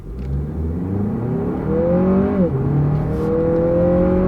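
A car accelerates hard from a standing start in an informal drag run, the engine note climbing steadily, dipping sharply at one gear shift, then rising again, loud and close from inside the cabin.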